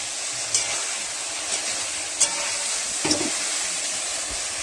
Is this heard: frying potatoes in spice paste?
yes